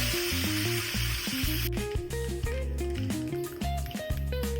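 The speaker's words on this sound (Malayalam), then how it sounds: "കുറച്ച് കറിവേപ്പില ഇട്ട് കൊടുക്കാം" Curry leaves and mustard seeds hitting hot oil, a bright hiss in the opening moments that drops away, leaving faint crackle beneath loud, prominent tonal music for the rest.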